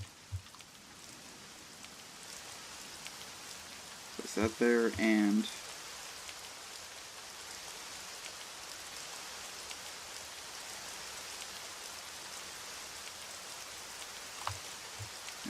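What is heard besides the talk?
rain in the video game TerraFirmaCraft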